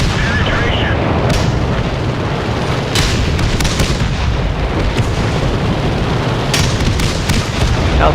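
Tank battle in a video game with a Chaffee tank in 3-on-3 platoon play: repeated sharp cannon shots and explosion bursts scattered over a constant loud rumbling engine drone.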